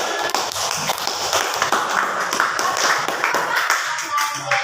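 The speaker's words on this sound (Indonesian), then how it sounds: "Boleh tepuk tangan." Classroom of students at a junior high school in Indonesia clapping together, a steady dense patter of many hands at close range that runs through the whole stretch, with a few voices mixed in.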